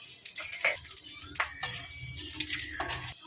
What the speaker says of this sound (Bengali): এখানে তেজপাতা, গোটা গরম মশলা, দারচিনি, এলাচ, লবঙ্গ আর সাদা জিরে, এটা আমি ফোড়ন দিলাম